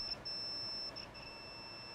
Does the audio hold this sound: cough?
no